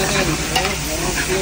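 Pork ribs with pepper and salt being stirred in a hot pan, a brief stretch of close, continuous sizzling with scraping and shuffling of the meat, no talking.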